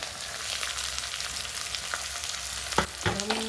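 Onions frying in oil with ginger and curry leaves, a soft continuous sizzle with a few clanks of a utensil near the end.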